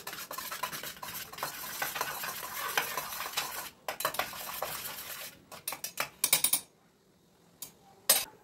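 Egg omelette being prepared in a kitchen pan, with busy close scraping and clinking of utensil on cookware in quick repeated strokes, then sparse clacks after a pause.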